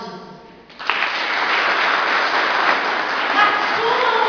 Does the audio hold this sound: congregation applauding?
yes